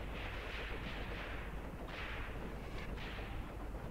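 Gunfire opens up in the Graviteam Tactics war game as a dense, continuous crackle of rifle and artillery shots, with louder bursts standing out from the steady roar.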